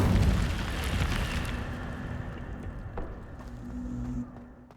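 A fire spell cast in the fantasy video game Hogwarts Legacy, a loud roaring whoosh with rumbling low end that bursts at once and slowly fades over a few seconds, with a brief flare near the end.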